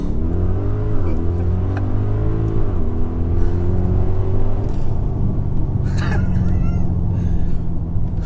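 An Audi RSQ8 engine rumbles loudly and revs up on a launch control start, its pitch climbing through gear changes as it accelerates hard, with a brief higher whine near the end.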